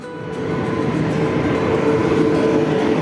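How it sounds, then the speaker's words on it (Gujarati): A steady, loud rumble of a train arriving at a station, rolling along the tracks, a continuous roar with faint rhythmic clatter building slightly throughout. "થોડીક વારમાં જ આવી ગઈ ટ્રેન"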